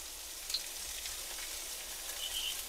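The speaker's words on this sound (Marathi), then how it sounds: "आता मी पहिल्यांदा टाकते मिरच्या, कांदा आणि हा कोबी घालायचा" Chillies, onion and cabbage fry in a pan with a soft, steady sizzle, a faint crackle running throughout and a few light clinks.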